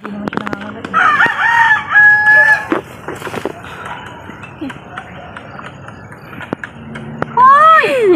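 A gray rooster on a farm crows several times at close range, with rising, strained calls, while a few other birds cluck and chirp in the background.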